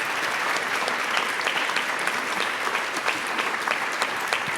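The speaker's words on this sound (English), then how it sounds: "let's give our amazing panelists a round of applause" A live audience at a city zoning speaker-series panel applauding the panelists, a steady mid-level wash of many hands clapping with faint murmuring underneath.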